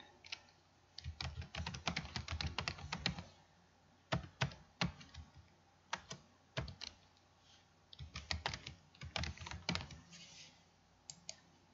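Rapid bursts of key clicks on a computer keyboard as text is typed into a field, coming in several quick runs separated by short pauses, close and fairly quiet with no voices.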